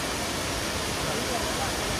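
Abbi Falls waterfall in Coorg, water rushing fast, a loud, steady broadband roar filling the whole clip without pause, close and constant.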